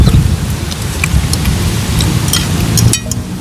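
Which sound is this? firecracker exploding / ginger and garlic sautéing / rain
rain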